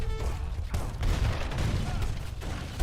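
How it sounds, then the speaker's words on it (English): Battle gunfire and booming in an Age of Empires III strategy match, a dense run of blasts and crackling shots continuing close and loud for the whole stretch, with no clear single cannon shot standing apart. "Shoots the biggest fucking cannon."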